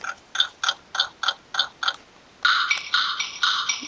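A Lalaloopsy toy stethoscope gives off a string of little electronic noises: eight evenly spaced short chirps, then a denser run of warbling beeps, close and fairly quiet with no talking.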